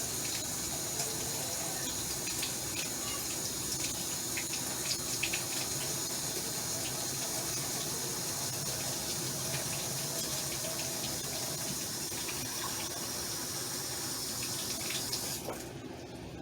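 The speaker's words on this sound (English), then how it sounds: "I'm going to go ahead and turn the water on there" A kitchen tap runs lukewarm water for making stromboli dough, a steady even rush that holds for over fifteen seconds with no talk over it, then shifts slightly at the very end.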